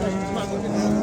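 A dairy cow moos at a livestock market in Kemin district, a steady, drawn-out low call heard close by over crowd noise and nearby talk.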